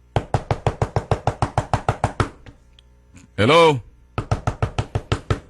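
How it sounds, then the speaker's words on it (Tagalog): Someone raps rapidly and repeatedly on a palace door in two long bursts of sharp, evenly spaced knocks, with a short pause between them where a voice calls out. "Just keep on knocking."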